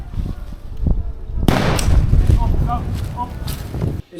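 A grenade goes off during British Army infantry platoon training: a sudden loud, broadband blast with a heavy rumbling tail that lasts a couple of seconds, while soldiers shout nearby.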